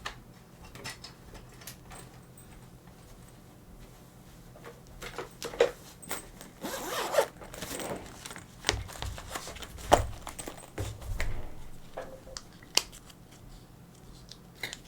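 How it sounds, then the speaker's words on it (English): A kneaded eraser is rubbed over drawing paper, producing soft, scratchy scrubbing strokes in irregular bursts over a steady low room hum. Some strokes are louder than others, with the tone near and close-miked throughout. "I'm gonna use my kneaded eraser because it's gentler on the paper for this first"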